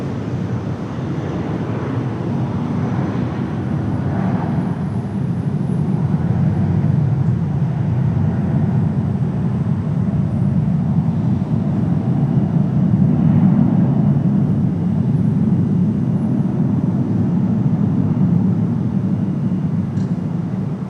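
JetBlue Airbus A320 taking off at Raleigh-Durham International, a continuous low, heavy engine roar that swells slightly midway and stays loud and steady, with some wind buffeting and no talking.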